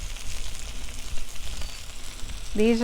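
Chicken breast sizzling on a hot griddle, a soft continuous crackle and hiss, with a voice starting to speak at the very end.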